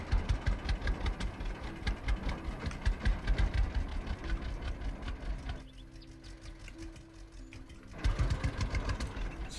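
Tractor engine in the farming video game Farmers Dynasty, a rapid chugging diesel rhythm that runs loud, drops to a quieter idle for a couple of seconds, then picks back up, with no talk over it.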